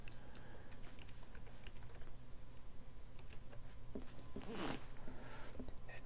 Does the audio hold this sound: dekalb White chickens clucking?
no